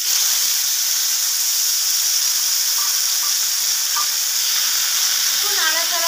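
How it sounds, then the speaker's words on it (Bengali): Spinach frying in a hot pan with panch phoron and dried red chillies gives off a loud, continuous sizzle and hiss, steady throughout and close by, with a few faint squeaks near the end and no talking. "এবার আমি একটু পাঁচ ফোড়ন আর একটু শুকনো লঙ্কা ফোড়নে দেব। এবার শাকটাকে দিয়ে দেব।"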